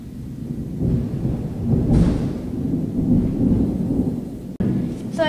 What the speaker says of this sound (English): So you might hear some thunder and lightning,